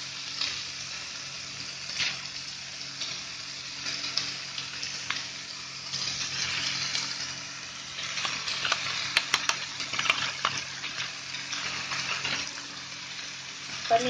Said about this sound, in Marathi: आता मी ह्याच्यामध्ये आहे ना पनीर टाकते.